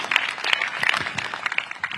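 An audience at a fundraising event aboard the USS Midway breaking into applause, a dense patter of clapping hands sustained for a couple of seconds.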